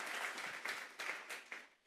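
A church congregation bursts into loud, dense applause, its clapping swelling in several quick waves before fading away near the end, with no speech over it.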